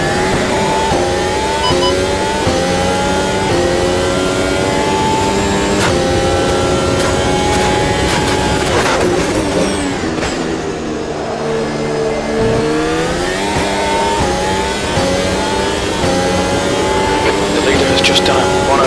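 Race car engine on a hot lap in the Automobilista sim racing game, a steady loud drone with rising and falling gear-change sweeps throughout, overlaid by continuous commentary talk.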